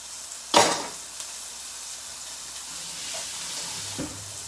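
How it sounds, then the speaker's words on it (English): Onions and garlic sizzle steadily in a frying pan, a soft continuous hiss opened by a sharp burst as they hit the hot oil, with a couple of faint utensil knocks later. "So onions and garlic, straight in that pan with that flavour."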